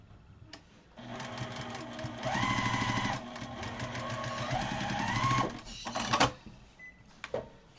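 Sewing machine stitching through a fabric sewing-machine mat, running steadily for about four seconds with a shift in speed midway, then stopping with a few clicks and handling noises.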